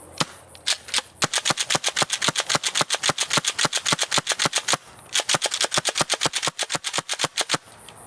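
An airsoft Jaguar scattergun running on green gas fires a long rapid series of sharp, loud cracking shots, brief pauses between bursts, close and with no talking.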